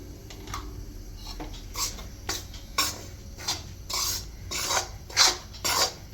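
A spoon scrapes sifted urad flour roasting in ghee in a kadhai over medium heat, about a dozen close, rhythmic rasping strokes that grow slightly louder and steadier, with no talking.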